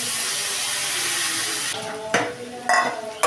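Drained flattened rice (chira) drops into a hot pan and hisses, the steady sizzle breaking into a few louder scraping stirs near the end.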